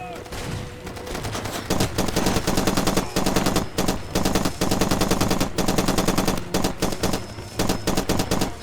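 A hard-to-control gun fires in Far Cry 2, long rapid automatic bursts that are loud and continuous, broken by brief pauses across the stretch.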